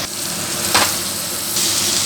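Ivy gourd fry being stirred with spice powder in a pan, a steady close sizzle of oil with a short scraping stir partway through.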